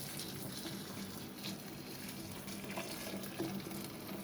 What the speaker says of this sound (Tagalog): So, bubuhusan na po natin yung ating karne.